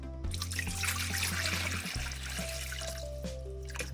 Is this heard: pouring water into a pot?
yes